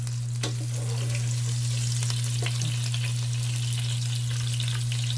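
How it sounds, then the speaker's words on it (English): Marinated pork sizzling steadily as it sears in a hot pan, a continuous close frying hiss with occasional small pops and a low steady hum underneath, no voices. "So after we seared our pork"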